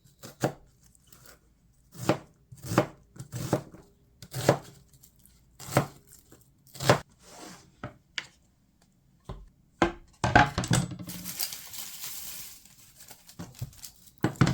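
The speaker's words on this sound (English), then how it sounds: "step 1, cut some onions" Onions being chopped with a knife on a cutting board, a series of distinct evenly spaced chops at close range, ending with a brief rustle and scrape as the pieces are gathered.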